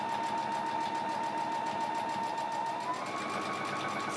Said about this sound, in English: you can just stitch across to the other side